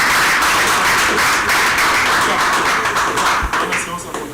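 Audience at an event applauding together, a dense, steady wash of clapping held loud throughout, thinning slightly toward the end.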